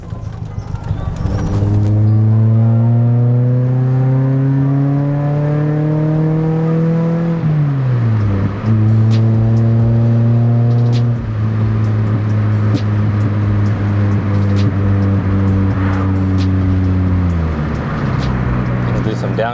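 A Toyota Celica GT-S engine revs loudly from inside the moving car, climbing steadily, dropping sharply on a downshift, then rising again, under a person talking.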